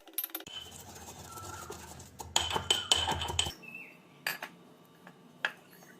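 Home remedy ingredients pounded with a pestle in a metal mortar, giving sharp metallic clinks and knocks in irregular bursts, loudest in a dense cluster midway, then sparse single strikes.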